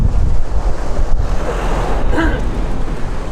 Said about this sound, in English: It's an incredible wind today.